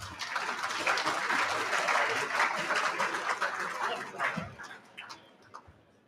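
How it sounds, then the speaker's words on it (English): Dense, steady crowd applause at the 2023 EFNL Chandler Medal Night, honouring a footballer's milestone; the clapping is broad and sustained, then thins and fades over the last couple of seconds. "If we can get a round of applause for Scott."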